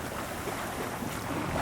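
Sailboat gliding at about five knots in light wind near Darcy Island, a steady broadband wash of water and soft wind rush continuing evenly, close and moderately loud with no voices.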